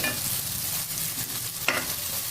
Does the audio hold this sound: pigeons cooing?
no